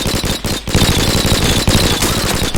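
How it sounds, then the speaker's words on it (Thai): Loud, rapid video game gunfire from Line of Sight crackles in dense automatic bursts for nearly three seconds, with brief gaps between the bursts and no speech. "ยิงมั่วยิงมั่วเป็นว่าเล่น"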